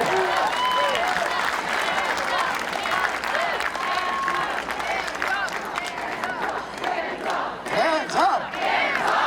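A large outdoor crowd at a Washington County protest rally cheers and applauds continuously, with clapping and shouts filling the scene, loud and close throughout.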